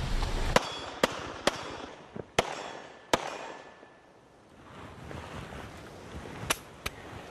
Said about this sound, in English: I've got a 45 pistol, the enemy's got an RPK.